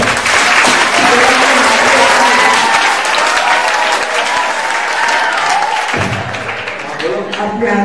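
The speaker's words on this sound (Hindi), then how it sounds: "तालियां बजाओ जरा।" Students in a classroom or hall applauding, loud dense clapping from a large group with some crowd voices mixed in, easing slightly and thinning toward the end.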